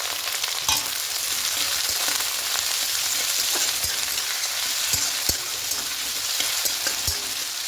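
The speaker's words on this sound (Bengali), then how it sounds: "এবার এখানে 1 বাটি পেঁয়াজ কুচি দিয়ে দেব" Chopped onion fries in oil with whole garam masala (cinnamon, cardamom, cloves, bay leaves), a steady close hiss broken by occasional sharp crackles and light stirring taps, with no talking.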